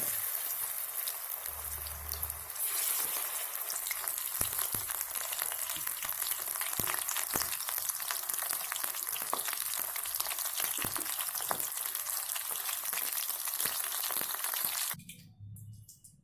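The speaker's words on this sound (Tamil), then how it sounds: "நான் இப்போ எண்ணெயில் ஒன்று ஒன்றா போடுறேன்." Chicken 65 pieces deep-fry in a modest amount of oil in a home kitchen, a loud, steady crackling sizzle with scattered pops that runs unbroken before cutting off near the end.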